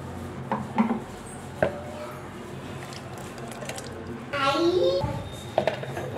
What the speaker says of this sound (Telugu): ఇప్పుడు మనం మిక్స్ చేసుకుందాం ఊరగాయలు